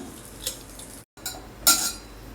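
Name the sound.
mashing boiled potatoes in a bowl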